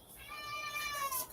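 A cat meows once, a drawn-out, fairly quiet call in an indoor room where scrapbooking is underway, with no talk over it.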